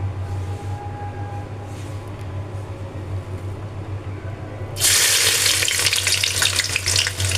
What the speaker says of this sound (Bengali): পেঁয়াজটা একটু নেড়ে চেড়ে ভেজে নেব।